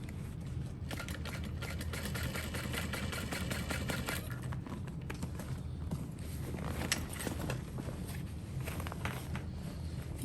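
A sewing machine stitches through several fabric layers along the side panels of a backpack, making a steady, close, continuous mechanical whirr with fast rattling needle strokes that run unbroken from start to finish.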